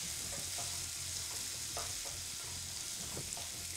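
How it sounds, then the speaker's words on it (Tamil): Green chilies and onion sautéing in a pan give a faint, continuous sizzle with light stirring scrapes scattered through it, and nobody talks. "இப்போ வந்து பச்சை மிளகா போட்டுக்குவோம். இப்போ வெங்காயம் இப்போ இது ரெண்டு நல்லா வதங்கணும்."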